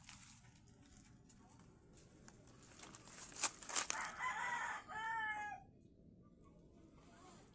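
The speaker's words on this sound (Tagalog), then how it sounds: "nandito tayo ngayon sa ating manok na mga ibinaba natin" A rooster crows once at moderate distance outdoors among other chickens, with a soft rustling background and faint clucking before it.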